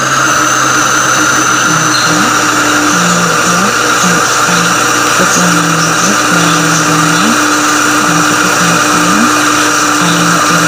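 An electric mixer whirs steadily while cheesecake batter of yogurt, cheese, sugar and milk is beaten, a loud continuous motor drone with its pitch dipping and rising as the load shifts.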